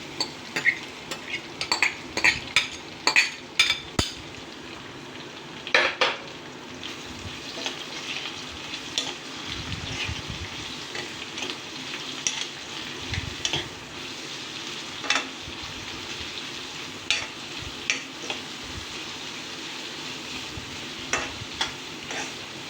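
Curry leaves and chopped onion fry in hot oil with a steady close sizzle, punctuated by sharp scrapes and clicks of a spoon stirring the pan; no voices.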